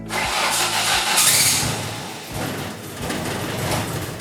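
A turbocharged Ford Escort cranks on a push-button start and catches, its engine running roughly and unevenly while cold. The sound is close and loud and continues for several seconds after the start.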